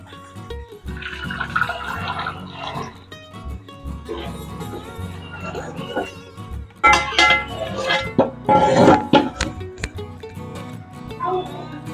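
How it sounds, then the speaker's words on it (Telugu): Melted jaggery syrup poured through a sieve into another bowl, with metallic clinks of utensils and liquid sloshing and dripping, the sounds growing louder near the end. "ఒక జాలి పెట్టుకుని వేరే గిన్నెలోకి వడపోసుకుందాం"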